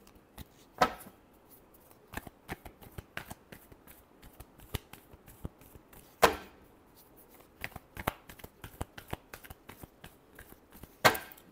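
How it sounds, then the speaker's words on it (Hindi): Playing cards are shuffled in a series of crisp riffling bursts, with sharp louder flicks standing out among quieter ruffles, close and alone with no talk. "last shuffle"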